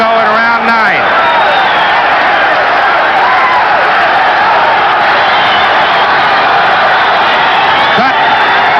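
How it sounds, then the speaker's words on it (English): A boxing arena crowd on its feet roaring and cheering through round nine of Jimmy Young vs Ossie Ocasio, a dense loud wall of voices with whoops rising and falling, a commentator's voice riding over it. "The crowd on its feet."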